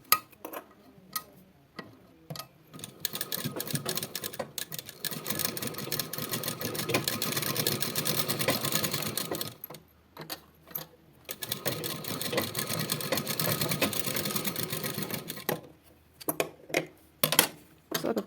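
Sewing machine stitching the neckline of a blouse, running in two long continuous bursts with short pauses and a few brief ticks, close and steady with no talking.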